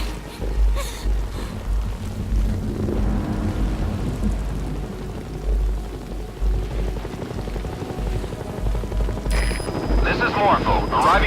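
The Morpho helicopter in Metal Gear Solid Peace Walker arrives as a continuous low rotor rumble with a steady pulsing throb. Rain-like noise runs underneath, and a brighter whine swells near the end.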